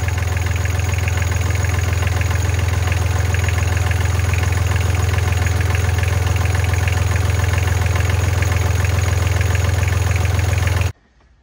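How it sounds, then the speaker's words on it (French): A Yanmar 3YM30 diesel inboard engine on a Sunrise 34 sailboat runs at a steady idle, a loud, close, rhythmic chugging throb that continues unbroken for about eleven seconds and then cuts off abruptly. "j'ai fait tourner le moteur"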